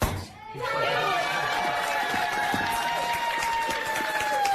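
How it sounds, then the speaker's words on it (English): Young kindergarten children cheering together in a courtroom at an adoption hearing, a loud high-pitched burst of excited shouts that carries on steadily, with overlapping voices. "Dozens of classmates cheering him on, waving paper hearts on wooden sticks"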